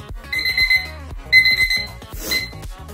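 A cleaning timer's alarm rings out in a home during a whole-house clean, sounding as a repeating melodic electronic beep pattern in bursts, loud and close, with no talking over it.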